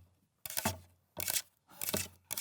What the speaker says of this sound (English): the sound of paper clips on a cutting board, making the tippy-tappy sound